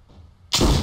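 A gunshot from the video game Trespasser: one sudden loud blast bursts in about halfway through, cutting off near-silence and sustaining a broad roar.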